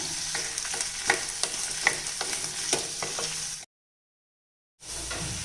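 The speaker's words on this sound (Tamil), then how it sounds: "வெங்காயம் வதங்கிட்டு இருக்கும்போதே தக்காளி சேர்த்துக்கலாங்க." Onions and tomatoes sauté together in a pan for a chutney, a busy sizzle with rhythmic stirring scrapes, cut off by a second of silence before resuming.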